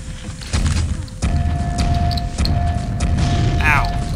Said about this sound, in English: So Wolfenstein has a mortar launcher, you see. This is pretty damn powerful.